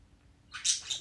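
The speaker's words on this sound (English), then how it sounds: "The Lorax will get you if you keep chirping" Pet birds give a brief burst of high, bright chirping partway through, fairly close, following near-silence with no voices.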